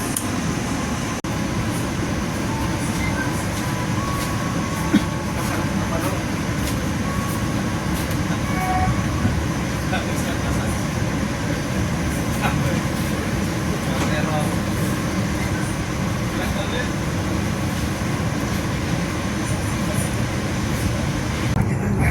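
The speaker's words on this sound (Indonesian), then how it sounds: "perjalanan kereta api Tegal Bahari baru saja dimulai dari stasiun Tegal" Inside an executive car of the Tegal Bahari train just leaving Tegal station, a steady low rumble and air-conditioning hum run unbroken throughout, with faint clicks and rattles.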